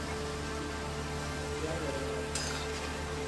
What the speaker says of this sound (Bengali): আর এই কটা পুলি ভাজছি ছেলেদের জন্য।